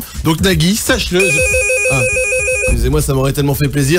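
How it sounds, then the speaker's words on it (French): The red phone on a French TV game show rings urgently with a steady electronic ringtone of bright repeating tones, loud and close, lasting about a second and a half while people talk over it. "c'est le téléphone rouge qui vient de sonner"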